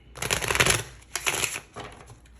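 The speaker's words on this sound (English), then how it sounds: "I know I shuffle the cards." A deck of tarot cards is shuffled close by in three quick riffling bursts, each a crisp papery flutter with short gaps between them.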